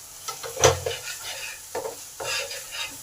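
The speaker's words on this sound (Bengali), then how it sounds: "এবার এটাকে ভালো করে এই মশলার সাথে কষে নেব" Masala spices being stirred and fried in a pan for a masala omelette curry, with a sizzle punctuated by several distinct spatula scrapes and knocks, one sharp clank early, heard up close.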